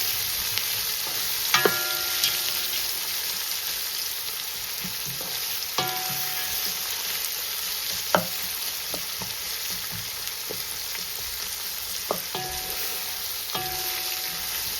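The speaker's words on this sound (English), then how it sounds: "now I need the onions to get a little bit brown" Three big sliced onions fry in a pot for biryani, a steady bright sizzle running throughout, broken every few seconds by the sharp scrape and knock of a spoon stirring against the pot.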